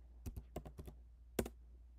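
Computer keyboard keys tapped while entering a transaction description, about seven distinct close clicks in a quick irregular burst, then a pause and a final firmer keystroke in a quiet room.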